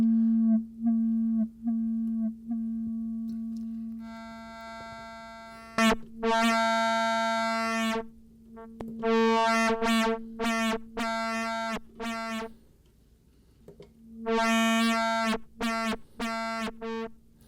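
A Moog Labyrinth synth tone through its wavefolder, with a steady low drone and bright, buzzy harmonic bursts that flare and cut off in uneven pulses, harsh and folded-sounding, with no voices.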